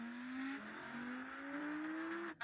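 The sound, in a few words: Audi RS car launching in a drag race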